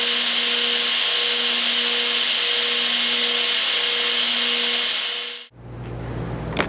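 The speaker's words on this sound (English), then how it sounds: "I'm going to put this hairdryer on high, and I'm going to hold it there for 30 seconds." A hairdryer runs on high with a loud, steady motor whine and airy rush that cuts off abruptly near the end, leaving quieter room hum behind.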